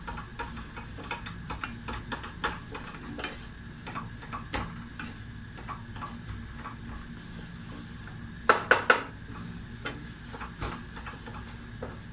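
Ingredients sautéing in a pan for béchamel cauliflower, with a soft continuous sizzle under scattered clicks of a utensil stirring, then a brief cluster of louder scrapes near the end.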